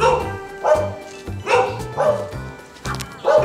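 Dog at a traditional courtyard house barking fiercely, a series of sharp loud close barks in irregular bursts with short pauses, with light voices between them.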